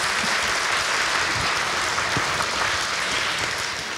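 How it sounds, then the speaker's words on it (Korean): A large audience at a year-end foundation gathering gives a big round of applause for the event organizers, thick continuous clapping from many people, loud and steady across the whole stretch without speech. "여러분들 그분들에게 다시 한번 큰 박수"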